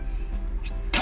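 A single sharp sneeze bursts out at the end after a quiet stretch of low background hum.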